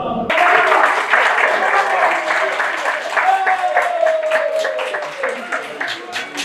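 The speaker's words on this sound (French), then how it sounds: "À l'annonce de la nouvelle, les générations ont applaudi longuement." A crowd applauds at length after a village regent is announced in Moossou, a dense, steady clapping that slowly thins toward the end, with some voices mixed in.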